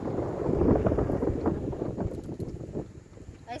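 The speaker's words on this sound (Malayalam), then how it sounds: "നല്ല കാറ്റ്" Strong wind rumbles and buffets against the microphone in low, gusty roars that ease slightly toward the end, outdoors while rod fishing in a Kerala village.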